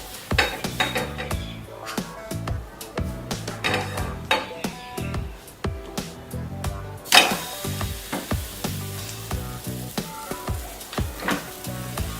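Gram flour batter with chili paste being spread across an oiled nonstick pan, steady frying sizzle under repeated clinks and scrapes of a utensil against the pan.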